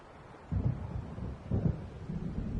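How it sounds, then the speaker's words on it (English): Low thunder rumbles of an approaching storm in the video game Alan Wake Remastered, two heavy rolling swells, distant and muffled, with no voices. "It seems there's a storm coming."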